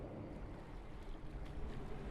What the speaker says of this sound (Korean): 그 너머의 거대한 그림자 속에서 철썩이는 물소리가 들렸다